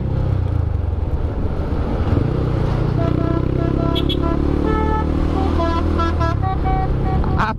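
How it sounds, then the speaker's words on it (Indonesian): A mountain-road car sounds its horn in a series of repeated toots over the steady rumble of a nearby motorcycle engine and road noise, the honks growing stronger toward the end. "klakson mobil gunung itu udah kayak gitu di sini"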